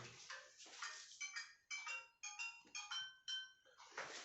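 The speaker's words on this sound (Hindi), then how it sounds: "फोन आ रहा था प्रिंसिपल साहब।" A phone ringtone plays a bright melodic tune of short electronic tones in quick phrases, fairly faint, with no talk over it.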